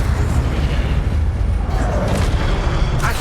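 A fiery Incendio spell cast in the video game Hogwarts Legacy gives a dense, continuous roaring burst of flame with low booming rumble, loud and sustained, its crackle rising toward the end.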